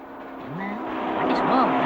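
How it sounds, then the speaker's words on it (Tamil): A large vehicle's engine approaches and swells steadily louder, with revving tones rising and shifting, while people talk over it throughout. "பெரிய வண்டியா வருது"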